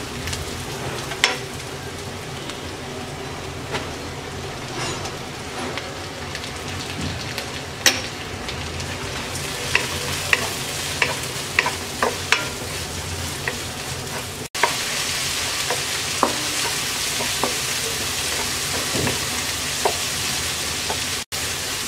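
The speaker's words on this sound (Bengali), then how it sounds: "এবার চিংড়ি মাছটা দিয়ে পেঁয়াজের সাথে 2-3 মিনিট ভেজে নেব।" Prawns fry with chopped onions in a pan, a continuous loud sizzle with scattered sharp crackles and occasional spatula scrapes; midway the sizzle suddenly grows brighter and denser, hissing steadily to the end with no voices.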